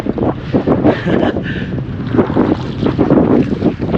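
Strong wind gusting outdoors in Ladakh at a water-collecting stop, a loud continuous rushing buffet with blustery surges against the microphone, with no talk.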